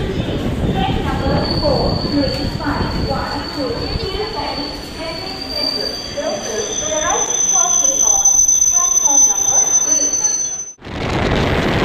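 An EMU suburban train rolls into Tiruvallur railway station on the Tirutani to Chennai Central line, with a loud, steady rumble, high squealing wheels and a sustained tone, then a sudden drop near the end. A voice talks over it.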